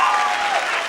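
A television game show studio audience claps and cheers loudly throughout, a dense steady wash of applause with no pause.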